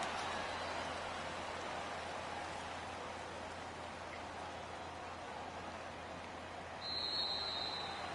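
Rain falls steadily during a Cowboys vs Rams divisional round football game in a PS4 video game, a constant soft hiss with a faint high tone appearing near the end.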